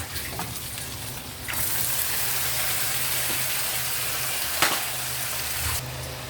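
Meat fries in a pan with onions and cinnamon, a loud steady sizzle that swells after a quieter start, with a sharp clack partway through and no talking.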